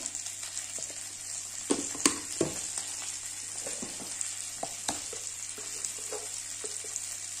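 Crabs frying with turmeric in a pan, a quiet steady sizzle with scattered light clicks and knocks as the pieces shift, heard alone without speech.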